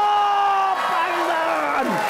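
A television studio audience claps and cheers, with sliding whoops and shouts rising over the applause before a falling yell near the end.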